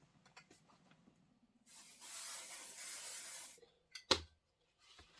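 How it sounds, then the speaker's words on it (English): A spray can releases one sustained hiss of adhesive onto fabric for a witch hat pillow project, lasting under two seconds, followed by a sharp click or tap and faint handling noises in a quiet room. "And let me give this a little shot of spray."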